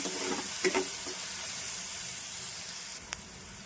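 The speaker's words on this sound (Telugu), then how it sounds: "ఉల్లిపాయలు కొంచెం వేగినాయండి. కొంచెం కరివేపాకు వేస్తున్నాను. ఇంకా కొంచెం వేగాలండి." Onions and curry leaves frying in a pan, a steady soft sizzle with a couple of brief stirring clicks near the start and one near the end.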